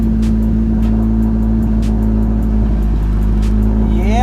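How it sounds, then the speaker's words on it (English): A cold 1996–2000 Honda Civic EK engine idles and revs close up, a steady droning hum with a strong low tone and light revving swells, ending with a rising whine. "I shouldn't be revving it like that. It is cold."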